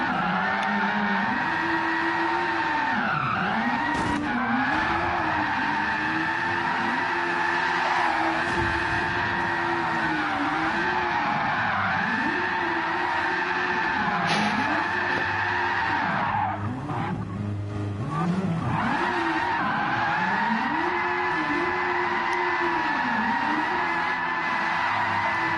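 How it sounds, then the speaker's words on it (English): Race cars in a GT racing video game, tyres squealing and skidding almost continuously through repeated slides, with wavering engine whine and screeching that rises and falls in cycles, loud and close with no voices. "That's enough of the tyre squealing."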